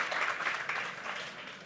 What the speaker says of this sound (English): Let's give Trayanka a round of applause for coming to help.